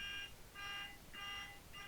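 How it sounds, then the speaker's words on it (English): A car alarm going off outside, heard as a repeating electronic beeping tone in regular bursts of about half a second, steady and moderately loud with a faint background hum. "There's somebody breaking into a car as we speak."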